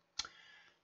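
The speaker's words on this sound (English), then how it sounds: "I just go in and grab a face and hit the delete key on the keyboard." A single quiet click as the delete key is pressed on a computer keyboard, one short tap followed by faint room noise.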